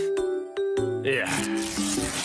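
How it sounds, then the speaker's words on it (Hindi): A cartoon character sprays water onto old wallpaper to loosen it, a steady hissing mist that starts midway and continues to the end, following tonal music and voices in an animated Hindi-dubbed scene. "इसके ऊपर ऐसे पानी स्प्रे करते हैं"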